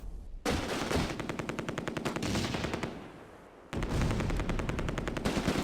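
Heavy machine gun fire in the Close Combat war game during a street battle near Nijmegen bridge, long rapid bursts of loud close shots with a brief lull before another sustained burst, no talking.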